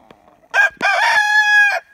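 A rooster in a small mountain flock of hens and roosters gives one loud, close crow, a short opening note followed by a long, drawn-out, harmonically rich call, with faint clucks around it.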